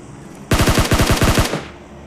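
Rapid automatic gunfire in a multiplayer shooter video game, a loud close burst of about a dozen shots lasting one second, followed by a short fading tail, with no voices.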